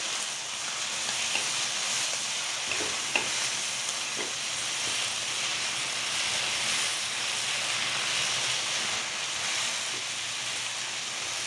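Chicken and vegetable samosa filling with mayonnaise and chopped coriander frying in a pan, a dense, even hiss of sizzling with occasional faint stirring clicks, steady and close for the whole stretch.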